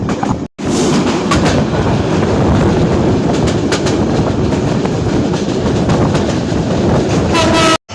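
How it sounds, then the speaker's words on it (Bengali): The Karatoa Express, a meter-gauge train, rolls into Bogura railway station with a loud, close rumble and rhythmic wheel clatter throughout. A short horn-like tone sounds near the end. "আমাদের ট্রেন প্রবেশ করলো বগুড়া রেলওয়ে স্টেশনে পাঁচ মিনিট বিলম্বে"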